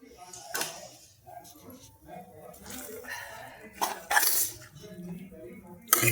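A spoon stirs banana stem curry in a metal pot, making scattered scraping clinks and knocks, with a cough and brief voices in between.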